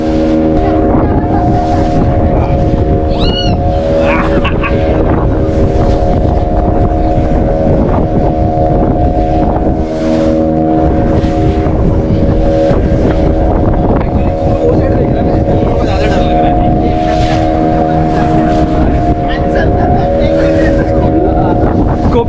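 A motorboat races across the sea off Malvan on the Konkan coast, its engine droning loudly and steadily under heavy wind buffeting on the microphone, with faint voices now and then.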